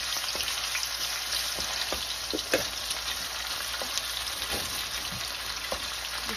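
Onion and garlic sizzling in a pan while cooking pork pata, a loud, dense, continuous frying hiss close by with scattered crackles and pops throughout.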